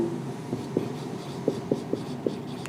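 Writing on a board during a biology lecture on phylum Hemichordata, heard as a short run of soft, irregular scratchy strokes, about six distinct taps and scrapes over a steady background hiss, with no voice.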